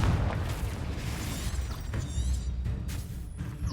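Confringo blasting spell explosions in the Hogwarts Legacy video game, a burst of booming blasts and crackling debris, loud and close, with several sharp hits over about four seconds.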